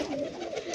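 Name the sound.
pigeon cooing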